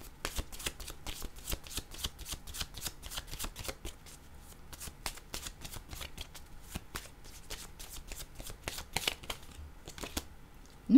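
Oracle cards are shuffled by hand in a steady stream of quick, crisp riffling flicks, close and fairly soft, continuing for several seconds with no talking.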